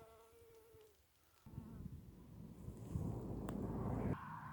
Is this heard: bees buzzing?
yes